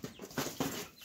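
Chickens cluck faintly in a quiet outdoor setting, with two or three soft, brief calls over a low background hiss.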